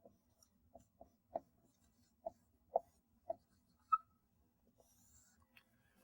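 Chalk or a marker writes equations on a board during a nanoelectronics lecture, a quiet series of short, sharp taps and strokes spaced irregularly against near silence, with no talk.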